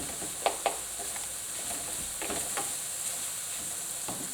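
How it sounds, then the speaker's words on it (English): Onions sizzle steadily in a hot frying pan, with a few sharp knocks and scraping strokes from a quick stir. "Do that quick mix around."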